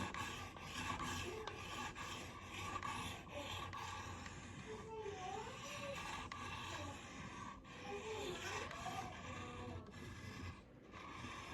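A Buck 657 Pursuit knife blade drawn across an oiled sharpening stone, a steady close rasping scrape in repeated strokes running throughout.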